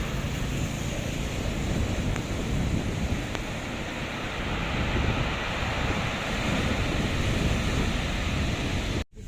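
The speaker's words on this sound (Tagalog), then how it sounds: "First time ko makakita ng ganitong alon." Heavy surf roars steadily, big waves crashing in a continuous wash with gusty wind rumble, no voices, ending in a sudden cutoff.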